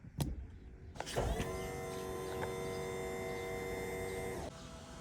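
The hydraulic leveling system on a 2001 Monaco motorcoach extends with a couple of clicks and a thump, then a steady electric motor whine and hum that runs several seconds before dropping off slightly near the end.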